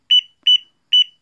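A digital LED cube alarm clock gives three short, sharp electronic beeps at an even rhythm while its buttons are pressed to set it, close and clean with no talking.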